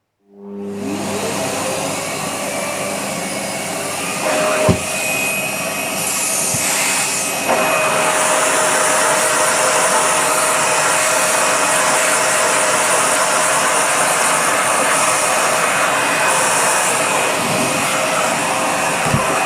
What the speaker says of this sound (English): We shall try my normal heavy vacuum cleaner out and see if we can get it to spin at all.